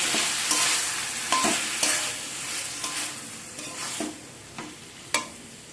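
Bori and spinach curry is stirred in a frying pan, a continuous bright sizzle punctuated by regular scraping strokes of the spoon against the pan, close and without any talk.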